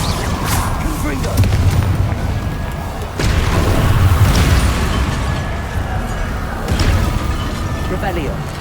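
Confringo blasting spells fire amid Hogwarts Legacy combat, loud dense booms and bursts layered over a constant rumbling game mix, with periodic heavier impacts throughout.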